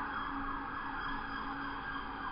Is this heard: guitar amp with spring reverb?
no